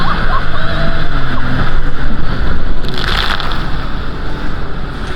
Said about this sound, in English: we're on the speedboat now, jumping over to the jet ski in the background